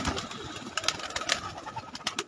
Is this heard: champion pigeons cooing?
yes